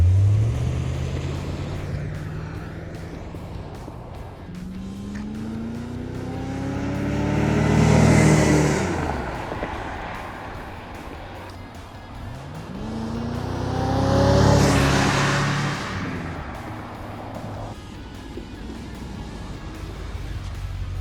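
A 1981 Chevrolet Corvette sweeps past twice on a cold day, its V8 engine swelling loudly as it nears and dropping in pitch as it fades away, with a steady motor hum between the passes.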